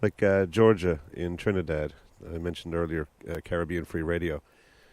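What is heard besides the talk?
No distinct noise like a dog, phone or traffic.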